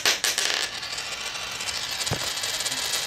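A zinc penny, a 1982 coin, dropped onto a hard surface gives a dull, short clink with a brief rattle, heard near and alone over a steady background hiss.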